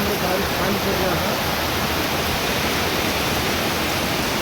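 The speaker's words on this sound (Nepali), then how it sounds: "आज यहाँ एकदम ठुलो पानी परिरहेको छ" Heavy rain pours steadily in a broad, even roar of broadband noise that stays loud and unbroken throughout, with no other sounds emerging from the wash.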